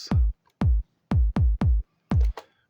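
A variation on a programmed electronic kick drum pattern, with six loud, close kicks in an uneven, syncopated rhythm, some tightly grouped, plus a couple of lighter clicks near the end.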